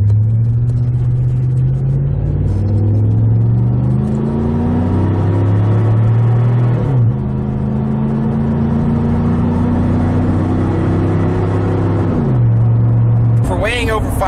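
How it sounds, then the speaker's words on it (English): A 5,000-pound Dodge Durango with about 181,690 miles under way, its engine and exhaust droning and rising through gear changes in a steady rumble, with a brief whine near the end. "And we gotta hear that exhaust, as you know."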